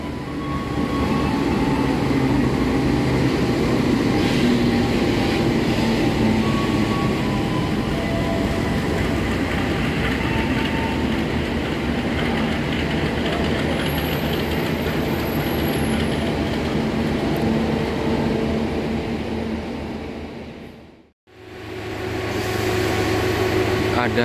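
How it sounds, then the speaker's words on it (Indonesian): A rail maintenance train rumbles steadily past close by near Kutoarjo station in Indonesia, a continuous rolling roar with a brief high squeal before the sound cuts abruptly and resumes faintly. "ada kereta api perawatan rel, teman-teman"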